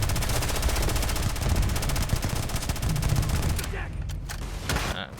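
Rapid, dense automatic gunfire from a space shooter game fills the scene, loud and continuous, breaking off into scattered shots near the end.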